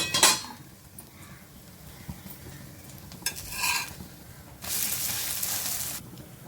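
A pancake fries in ghee on a pan and gets flipped, with faint sizzling, a few scraping spatula and pan clinks, and a louder burst of sizzle near the end.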